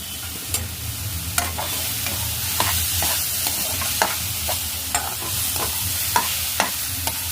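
Carrot halwa with sugar and cardamom powder being stirred in a pan, a steady run of sharp spoon scrapes and clicks over a soft, continuous sizzle, close and moderately loud, with no talking.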